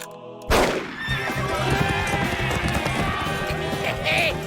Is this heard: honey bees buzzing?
no